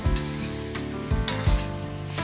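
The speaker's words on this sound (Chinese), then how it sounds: "接着热锅起油，煸香生姜泥，倒落鸡块翻炒" Chicken pieces stir-fry in hot oil with grated ginger, a loud continuous sizzle broken by a few sharp scraping stirs of the spatula.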